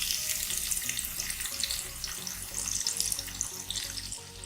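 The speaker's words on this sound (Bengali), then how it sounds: "এবার আমি তেলটিতে মাঝারি সাইজের দুটো পেঁয়াজ কুচি করে আমি এখন এটাতে দিয়ে দিব।" Two medium chopped onions fry in oil in a pan with a dense, even sizzle, close and steady, with no voices heard over the crackle.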